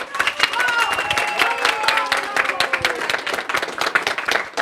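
Applause at an indoor office award ceremony sends off a prize winner, dense steady clapping filling the room with a voice talking over it throughout.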